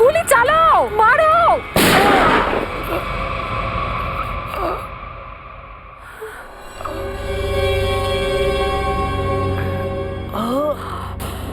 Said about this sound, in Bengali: আমি তো ভয়ে গুলি চালিয়ে দিয়েছি